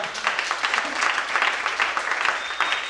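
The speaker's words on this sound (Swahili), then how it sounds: "Hebu mpe Bwana makofi haraka." Congregation in a church clapping for the Lord, a dense, steady burst of applause from many hands, close and loud, continuing without pause.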